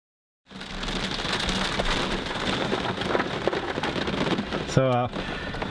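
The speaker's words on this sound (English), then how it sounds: "how long was it since we stopped filming that started raining?" Heavy rain suddenly begins and drums steadily on surfaces during a thunderstorm, a dense close patter with low thunder rumbling beneath and a brief sharp burst near the end.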